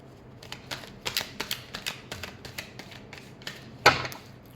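A deck of cards being shuffled at close range: a run of quick crisp flutters and slaps, a dozen or so short bursts, ending in one louder snap, with no talking.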